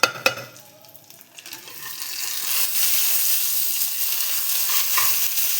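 Two khoira fish frying in a pan: a few knocks and clatters at first, then a loud, steady hiss and crackle of hot oil sizzling around the fish.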